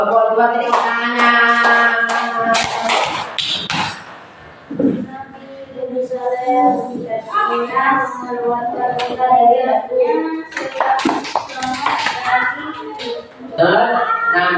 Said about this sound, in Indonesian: Ya, kelompok 2 tepuk tangannya.